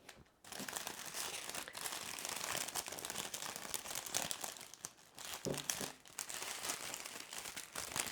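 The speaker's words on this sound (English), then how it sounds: "So there we have our bottle wrapped in cellophane with a pleated effect, held together with a ribbon" Cellophane crinkles and rustles almost continuously as it is pleated around a bottle and tied with a ribbon. The crackling is close and steady, with a brief pause near the start and a short dip midway.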